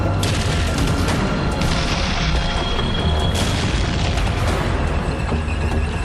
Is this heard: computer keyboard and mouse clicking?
no